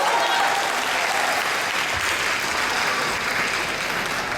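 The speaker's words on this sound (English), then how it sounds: "Let's give Suen a big round of applause" Audience applause for a student drummer at a live drums concert, a dense steady wash of clapping from a sizable crowd, loud and continuous throughout without a break.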